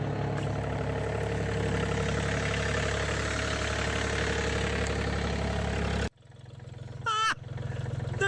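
A tractor engine idles with a steady low rumble that runs unbroken for about six seconds, then cuts to a quieter, lighter engine note with a brief higher whine near the end.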